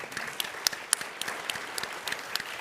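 A tech conference audience applauds startup presenters on stage, a thin, steady patter of clapping with a few louder individual claps standing out, somewhat distant in a large hall.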